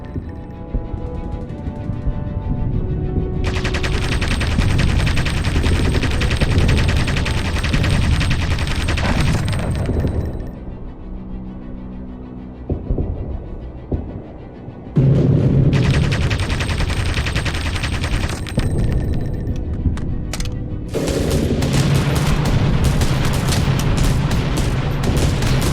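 Sustained, loud bursts of gunfire aimed at an enemy aircraft during aerial combat, roaring in long rattling volleys with brief lulls between them and no talking.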